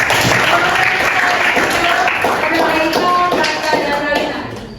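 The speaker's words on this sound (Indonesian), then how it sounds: "Semua boleh tepuk tangan dulu." A classroom of students claps together, steady dense applause that gradually tapers off toward the end.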